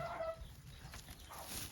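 Chickens in a coop cluck softly in a short burst, faint and somewhat distant, against a quiet outdoor background.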